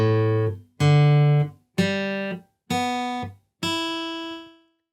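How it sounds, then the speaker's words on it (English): Six open guitar strings in standard tuning with no capo, plucked one at a time from low to high, each ringing clearly for about a second before the next, close and alone. "In standard tuning, with no capo, the open guitar strings sound like this."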